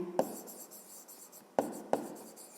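Handwriting on paper while working a fifth-grade math exercise, a faint steady scratch of pen strokes with three sharper taps as the pen meets the page, heard alone with no voices.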